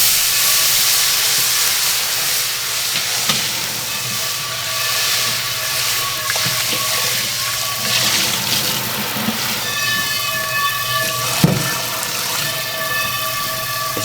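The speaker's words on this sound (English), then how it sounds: "But this water and this hot pan are about to deglaze the pan and get most of the gunk off." Water hits a hot, dirty pan to deglaze it, giving a loud, steady steam hiss with crackling sizzle close by and a few clatters of cookware over a kitchen hum.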